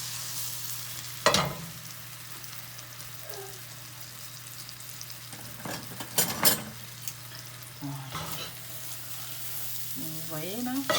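Butter and sugar sizzling steadily in a pan over medium heat for a caramel, a continuous close frying hiss with a low hum underneath and a few sharp clinks of utensils or pan.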